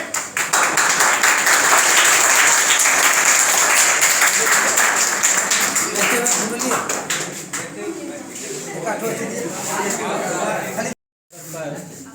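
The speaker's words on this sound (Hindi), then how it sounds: "ताली बजते रहनी चाहिए।" A school gathering at a Children's Day celebration applauds a floral tribute to Chacha Nehru; loud, dense clapping from many hands gradually thins and fades, a voice briefly emerges, and the sound cuts out near the end.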